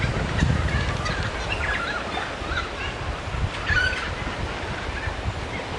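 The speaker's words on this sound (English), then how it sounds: "It's a really lovely babbling call." Bubbly, chattering calls of a noisy friarbird ring out in short babbling bursts over a steady low background rumble, moderately close.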